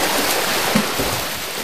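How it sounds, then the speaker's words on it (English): Swimmers in a triathlon churn the water, giving a continuous rushing wash of splashes and strokes at moderate loudness with no voices. "142 hands swimming a triathlon."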